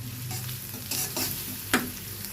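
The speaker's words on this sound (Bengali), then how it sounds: "পেঁয়াজটা আমি গোল্ডেন কালার করে ভেজে নেব।" Two cups of onion frying in a pan toward golden brown, a close, even sizzle with brief stirring scrapes and one sharp spatula tap, no talking.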